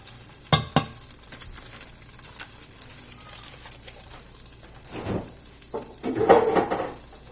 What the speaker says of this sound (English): I'm adding a little bit more butter